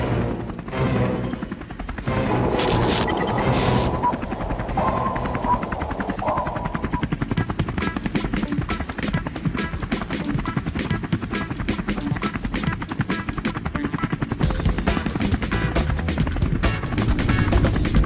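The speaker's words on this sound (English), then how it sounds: "A chopper hovers by the sea, surveying the area." Helicopter hovering over the sea near a volcano, its steady rotor chop dense and loud throughout, with sharp crackling bursts layered over the continuous engine roar.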